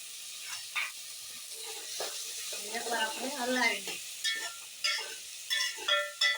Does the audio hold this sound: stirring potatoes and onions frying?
yes